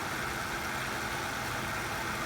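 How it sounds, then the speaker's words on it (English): A 2007 Lexus RX 350 engine idles after an oil change, giving a steady, even hum with no change in pitch, close by and alone. "just, like I said, just, you know, let the engine run, making sure that the oil is circulating"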